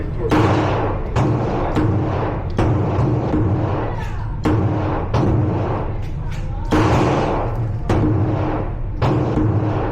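Pistol shots fired at an indoor shooting range, a run of sharp booming reports roughly every half second to second, loud and close, with a range instructor's voice talking between them.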